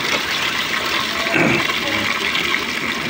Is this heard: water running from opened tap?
yes